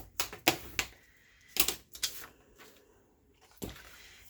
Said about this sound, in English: we're just going to fold this back like this. Put our little crease in it.